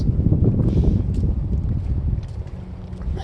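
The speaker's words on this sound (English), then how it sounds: "It's cold and windy." Gusty wind buffets the microphone with a heavy low rumble throughout, no voices heard.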